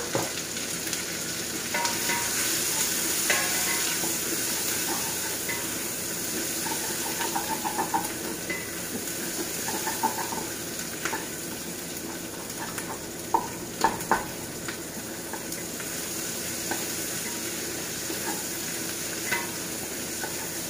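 Onions sauté in a pan for Bicol-style papaitan. A steady sizzle and hiss carries throughout, with occasional stirring clinks and scrapes and no talking.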